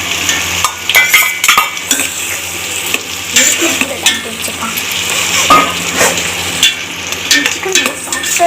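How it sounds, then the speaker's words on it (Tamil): Fried chicken pieces are tossed into a hot pan for chicken fried rice, with loud sizzling and repeated scraping, clanking stirs of a spatula against metal. "அடுத்து நம்ம சின்ன சின்னதாக நறுக்கி ஃப்ரை பண்ணி வச்சிருந்த சிக்கனை உள்ளே போட்டுக்கலாம்."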